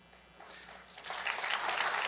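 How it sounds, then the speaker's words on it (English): Applause at the White House Correspondents' dinner swells from faint scattered clapping into a fuller, distant wash of hands over about two seconds. "Oh, there's the applause."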